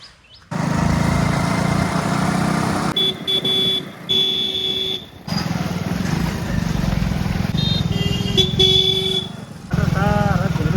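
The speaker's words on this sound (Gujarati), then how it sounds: "નરસિંહનું બાઇક લઈને જવાનું છે અમારે ભીલડી." A motorcycle rides along on a road, its engine a steady close drone with brief dips as it changes pace, while a voice talks over it and short horn-like tones cut in near the end.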